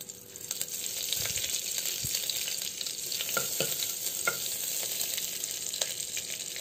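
Tempering spices sizzle and crackle in hot oil for kollu rasam, a steady frying hiss with scattered pops and clinks of stirring, close and fairly loud.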